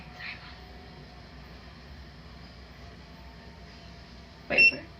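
A TYMO hair waver gives a single brief electronic beep near the end, heard against a quiet room hum after a faint earlier chirp.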